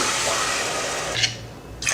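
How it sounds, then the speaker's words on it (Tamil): Water pours in a steady gushing stream into a pot of sautéed onion, tomato and turmeric, ending with a couple of brief splashes. "அடுத்து தண்ணி சேர்த்துடலாம்."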